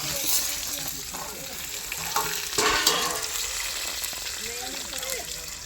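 Onions fry in a pan in a home kitchen, a continuous hissing sizzle with occasional stirring clatter, while a voice talks over it.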